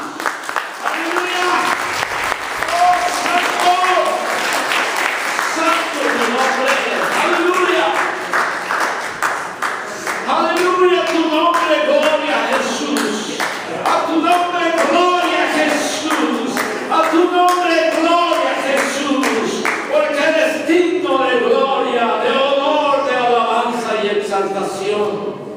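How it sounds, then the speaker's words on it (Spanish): Church congregation applauding, a long stretch of clapping with a voice and music carrying over it, loud and sustained across the whole span. "Demos un aplauso a Jesús."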